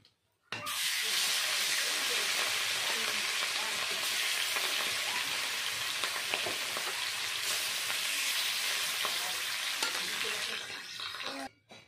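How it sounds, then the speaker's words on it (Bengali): Rohu fish pieces frying in oil, a loud continuous sizzle and hiss starting abruptly and holding steady for several seconds before cutting off, close up. "বাকি মাছগুলো একইভাবে ভেজে নেব।"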